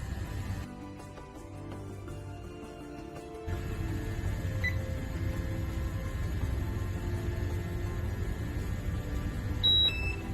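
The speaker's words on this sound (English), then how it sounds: "You can hear the alarm going off." An air quality monitor sounds its hazardous-atmosphere alarm, a steady electronic tone that switches on partway through and holds at a fairly loud level with brief higher beeps near the end.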